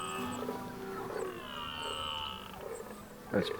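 Red deer stags roar with deep, drawn-out bellows carrying from a distance, rising and falling over a faint background hush.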